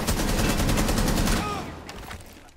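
Rapid gunfire in the video game Rainbow Six Siege crackles in quick bursts over a shotgun fight, then fades as a voice speaks near the end.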